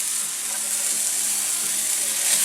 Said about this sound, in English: Now we're going to throw our pancetta in.